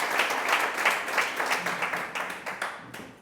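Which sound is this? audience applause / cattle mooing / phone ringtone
audience applause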